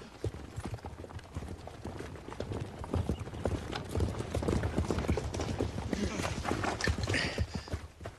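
Several horses' hooves clip-clop steadily and close in a Western film dubbed in Portuguese, a busy, uneven rhythm of hoofbeats running throughout with voices over it.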